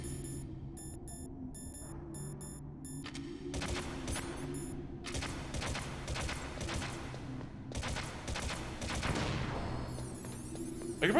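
Enemy gunfire aimed at the player in Metal Gear Solid 1, several rapid bursts of shots over a steady electronic background tone with repeating beeps.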